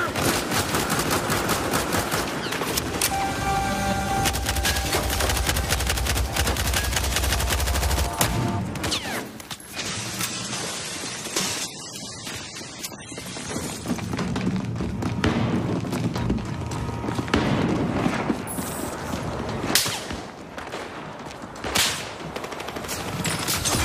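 Rapid bursts and single gunshots from a Battlefield Hardline firefight, loud and continuous with dense automatic fire, thuds and scattered reports, with shouted voices mixed in.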